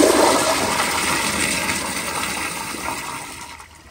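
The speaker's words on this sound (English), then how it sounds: "So here's another flush." Crane Plumbing Placidus toilet from 2000 flushing with a strong, loud rush of water that holds steady for several seconds before tapering off near the end, heard alone without talk.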